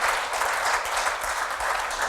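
A church congregation applauds, with dense, steady clapping from many hands filling the room, sustained and fairly loud throughout with no voices over it.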